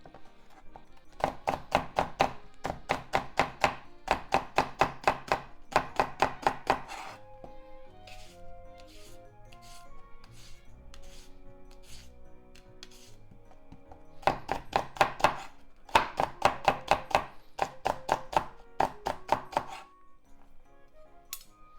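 A knife slices ingredients on a cutting board while mapo tofu is prepared, giving rapid, evenly spaced, crisp chopping knocks up close in two long runs. A quieter stretch of softer clinks and handling sounds falls between them, with no talking.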